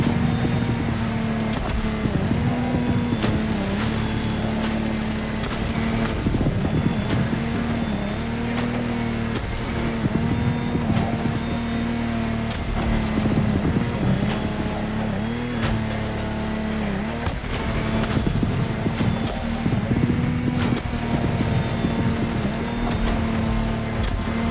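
A steady engine drone with a pulsing low hum runs throughout as a sailboat crosses a rough swell in The Crew Motorfest, loud and continuous with faint rushing noise on top.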